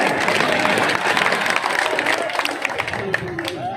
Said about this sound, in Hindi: ताली बजाओ भाई इस बात में